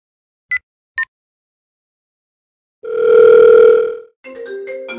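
A telephone call tone in a Telugu short film: two short beeps, a pause, then a long, loud steady tone followed by a shorter, more broken tone, with no talking.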